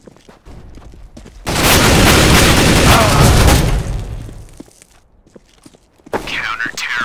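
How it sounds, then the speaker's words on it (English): A flashbang grenade thrown in Counter-Strike GO goes off as a loud, sustained hissing roar of about two and a half seconds that fades out, with faint footsteps before and after and a short ringing tone near the end. "Throwing a flashbang."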